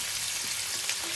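Chopped onions fry in a pan with a brief, steady bright sizzle, heard alone and close.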